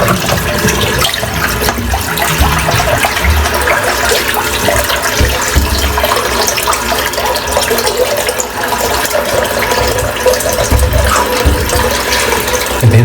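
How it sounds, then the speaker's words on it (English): A bathroom sink full of shaving water drains out after a wet shave, a steady gurgling, trickling rush of water running down the plughole close by with faint clinks, continuous for the whole stretch with no one talking. "I'm just going to empty the sink out"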